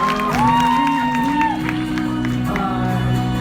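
Applause and whoops from a live crowd at a YouTuber dance-off event in Estonia, steady clapping mixed with cheers under loud music and a voice on the microphone.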